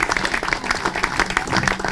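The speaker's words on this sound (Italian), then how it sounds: "Ancora un applauso a questi giovanissimi di cui siamo già orgogliosi." A crowd applauds at the official presentation of an Italian youth football club, with quick, uneven clapping that stays close and lively throughout.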